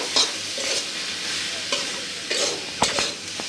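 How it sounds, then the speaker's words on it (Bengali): Steady sizzling of taro leaves frying in hot mustard oil, with scraping stir strokes and a few sharp spatula knocks against the pan. "সরিষার তেল দিয়ে কচু পাতাটা আমি তেলের উপরে আবার একটু ভাজা নেব"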